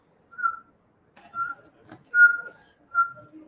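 Four clear whistled notes imitate the call of a midwife toad, which resembles a scops owl's, each a short pure tone spaced about a second apart, with faint rustle and a soft murmur between them.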